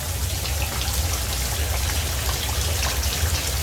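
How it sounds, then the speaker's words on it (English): Rain falling on a home vegetable garden with climbing bitter melon vines, a steady dense patter of drops and a low rumble that runs unbroken and moderately loud. "The rain is going down."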